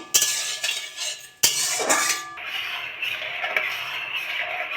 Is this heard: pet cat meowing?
no